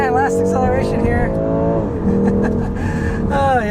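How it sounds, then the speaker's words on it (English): A red 2024 BMW 230i xDrive with the M Sport package speeds up, its engine note climbing and shifting through gears under steady, close talk from a person inside. "And last acceleration here."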